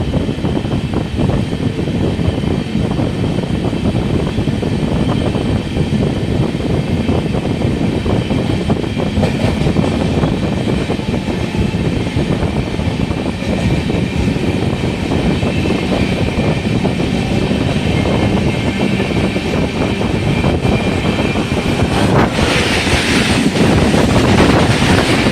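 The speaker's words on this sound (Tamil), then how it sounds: "ஒரு ட்ரெயின் கிராசிங் இருக்குதுன்னு நினைக்கிறேன்." Another train passes on the adjacent track beside the moving Tirupati–Coimbatore Intercity Express near Sulur station, a loud continuous rushing rumble with clattering and wind buffeting that swells slightly near the end.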